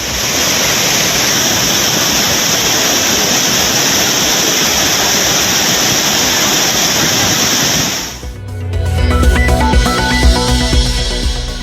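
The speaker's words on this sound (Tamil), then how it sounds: "குற்றால அருவிகளில் காட்டாற்று வெள்ளம்." Courtallam waterfalls in flash flood roar as a loud, steady broadband rush of pouring water for about eight seconds, then give way abruptly to a different, lower-pitched rumbling water sound.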